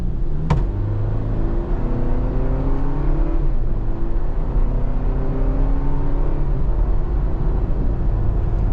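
A 2025 Toyota Tacoma SR XtraCab 4x2 work truck accelerates through manually selected gears. Its engine drone climbs in pitch, drops at each shift and climbs again, steady and close, with no voices.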